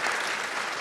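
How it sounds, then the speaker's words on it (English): A school audience of freshman families gives a round of applause at a workshop, a brief, moderately loud spell of steady clapping with no talking. "we should give them a big round of applause."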